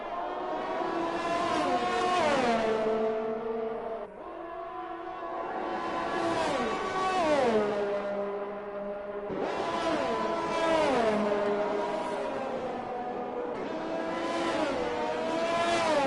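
Formula 1 cars race in an F1 video game league at the Saudi Arabian GP, a Ferrari among them: high-pitched engine whines climb and drop sharply through gear shifts in repeated waves, loud and close, with no talking.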